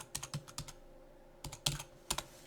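Quick bursts of keystrokes on a computer keyboard, a cluster of clicks followed by a pause and then a few more separate taps, close and clear with no voice over them.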